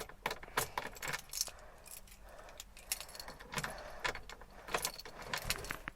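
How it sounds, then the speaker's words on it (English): Keys jangle and clink as a replacement key is worked into the ignition of a MK1 Ford Cortina GT with a 1.5 engine, a series of close, sharp metallic rattles and taps with brief pauses. "I'm going to pop the key in for you"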